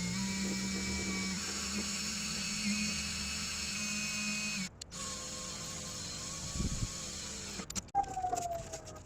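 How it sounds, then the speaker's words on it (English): A small drill boring a 1/8 inch hole from the bottom of a metal U-bracket for a camper eyebolt mount, a steady motor whine that dips and restarts as the bit cuts, fairly close. "Drilling from the bottom, first a 1/8 inch hole."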